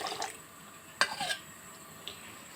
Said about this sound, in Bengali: এখানে আজকে সবজি রান্না হচ্ছে